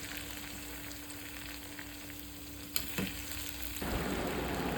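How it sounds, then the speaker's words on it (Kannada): Marinated soya chunks frying slowly in coconut oil over a low flame, with a soft, steady hiss of bubbling oil, a couple of brief knocks, and the sizzle swelling slightly near the end, without talk. "ಮ್ಯಾರಿನೇಟೆಡ್ ಸೋಯಾ ಚಂಕ್ಸ್ನ ಒಂದೊಂದಾಗಿ ನಿಧಾನಕ್ಕೆ ಎಣ್ಣೆಯಲ್ಲಿ ಫ್ರೈ ಮಾಡಿ."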